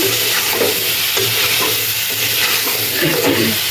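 Vegetables hiss and sizzle loudly after going into spiced masala in a village kitchen, a dense continuous frying noise with stirring scrapes throughout.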